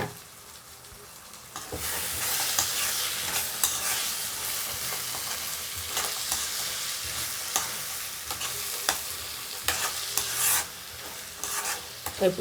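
Green peas masala curry frying in a pan while being stirred, a steady sizzle with scraping spoon strokes that swells after a quiet start and holds loud and close to the end.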